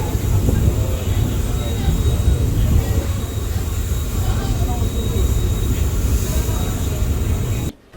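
Unreserved passenger train 57302 rumbling into Safilguda station at night, a loud steady rolling roar from inside the carriage that cuts off abruptly at the end, with a voice speaking.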